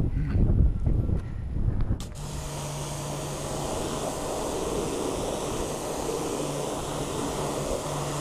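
Steady broadband hiss of water spraying over a car during the pre-wash rinse stage of an exterior detail, loud and continuous after a brief rougher start, with no talking.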